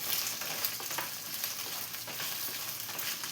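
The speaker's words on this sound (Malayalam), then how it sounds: "ഇതിലൊന്ന് നന്നായി ഫ്രൈ ചെയ്തെടുക്കാം." Okra (lady finger) sizzles in two tablespoons of hot coconut oil in a pan, a steady close crackle and hiss with faint stirring scrapes and no voices.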